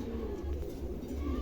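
A pair of fantail pigeons coo softly in a low, murmuring rhythm amid faint background noise at a bird market.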